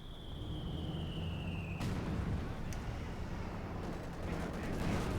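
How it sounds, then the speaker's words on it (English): A Katyusha rocket battery fires in Company of Heroes 2, a rising whistle ending in a sharp launch burst followed by rumbling bangs, set against continuous battle din and a commentator talking. "Katyusha firing away there"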